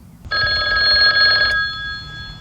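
A payphone bell rings in a steady burst of about a second and a quarter, clear and fairly close, then stops, leaving low background rumble.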